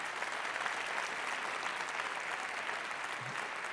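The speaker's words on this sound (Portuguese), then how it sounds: "pode aplaudir a ele" A church congregation at a conference applauds together, a steady, even clapping that fills the room evenly from start to finish with no voices rising above it.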